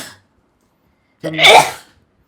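One sharp, close sneeze bursting out after a short silence, preceded by a brief vocal fragment at the start.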